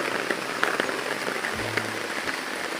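A brief stretch of heavy rain, steady and hissing, with dense close drops pattering on a surface.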